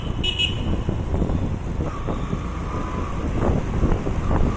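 A car horn toots on an otherwise empty road, heard over steady traffic rumble and wind buffeting the microphone, with a brief bright honk near the start and a fainter sustained tone later.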